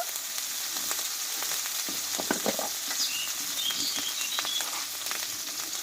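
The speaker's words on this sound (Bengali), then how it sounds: "আর দিয়ে দেবো হলুদ আদা টমেটোটা একটু ভালোভাবে কষিয়ে নেব" Tomato, turmeric and ginger fry in a pan while being stirred, a close, continuous sizzle with scraping and stirring clatter and no one talking.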